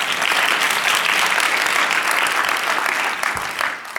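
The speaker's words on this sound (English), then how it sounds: "if we could just give them a round of applause super quickly" Conference audience applauding in a hall, a dense, steady burst of many hands clapping at full strength that tapers slightly toward the end.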